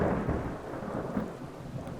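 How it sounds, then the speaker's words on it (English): Rain with rolling thunder in the Skyrim VR video game near Dragon's Reach, the Jarl's palace: a steady, moderately loud low rumble and hiss of rainfall with a swelling thunder roll, no voices. "on our way up it started to rain"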